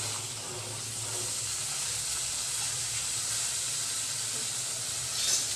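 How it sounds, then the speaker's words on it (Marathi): Cooked chickpeas hiss and sizzle steadily in a pan of frying chana masala spices, a constant soft, steamy crackle that is faint and even throughout, with a brief louder clink near the end. "ते मसाले चांगले फ्राय झालेले, त्याच्यामध्ये चणे टाकूया शिजवलेले"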